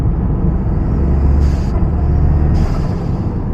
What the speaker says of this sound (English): got a turbo car, gotta have the blow-off valve sounds